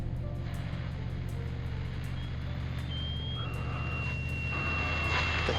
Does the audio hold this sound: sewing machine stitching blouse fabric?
no